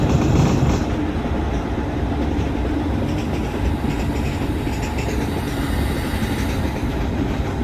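A Kalka Mail passenger train in the Indian Train Simulator video game runs steadily along the track, with a continuous loud rumble and rattling wheel noise throughout and no talking.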